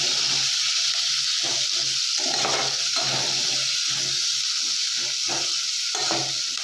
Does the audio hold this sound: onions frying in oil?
yes